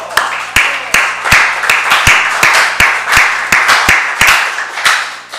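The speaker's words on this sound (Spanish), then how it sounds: "un aplauso para los muchachos" Applause in a municipal council chamber during a session in Curicó: a small group claps in sharp, distinct, fairly slow claps that stay steady and close throughout, with no talk on top.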